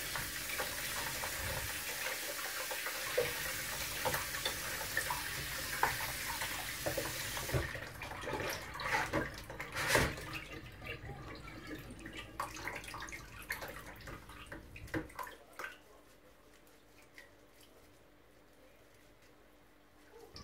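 Cameroonian okok (okazi) bark is rinsed under running tap water, a steady loud gush with splashing and handling noises that cuts off near the end, leaving quiet room tone.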